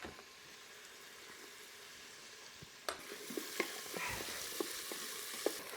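Garlic and onions sauté in an Instant Pot: a steady sizzle, soft at first, then louder and brighter about halfway, with sharp clicks and scrapes of stirring.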